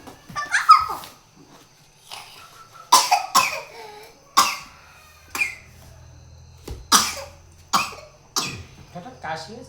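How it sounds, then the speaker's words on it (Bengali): A child coughs in several short, sharp bursts spread across the stretch, each one close and fairly loud. Quiet gaps and soft vocal noises fall between them, and a low hum runs underneath part of the time. "হঠাৎ কাশি হয়েছে কেন বাবা?"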